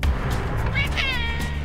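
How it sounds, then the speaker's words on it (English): A cat lets out a single, very high-pitched meow close by, stretched over about a second against steady low background rumble. "He turns up at me and gives a really high meow"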